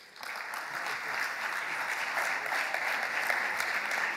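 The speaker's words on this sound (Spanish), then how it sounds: "Un aplauso." An audience claps for a company's founding partner taking the stage at a PechaKucha business event, steady broadband applause filling the room for about four seconds with no talk over it.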